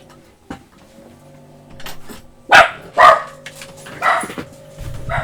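Dogs bark nearby in a quiet room: a few strong, separate woofs spaced about a second apart, with softer yips and small knocks between them.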